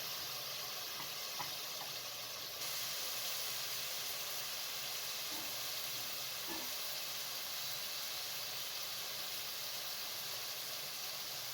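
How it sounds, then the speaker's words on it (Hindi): Minced meat frying with tomato paste in a pan for an aloo keema, giving a steady, close hiss and sizzle that runs the whole time with no voices. "जैसे कीमा फ्राई हो जाए, इसके अंदर टमाटर का पेस्ट शामिल कर दें"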